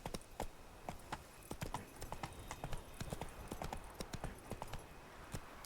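Horse hooves gallop in The Witcher 3, a rapid, steady clip-clop of sharp strikes that runs throughout at close range with no talk over it.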